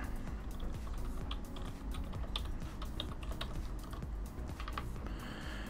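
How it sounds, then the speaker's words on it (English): Typing a web address on a computer keyboard, a steady run of quick clicking keystrokes at close range, continuous for several seconds with no talk. "you're going to type in www.amazon.com"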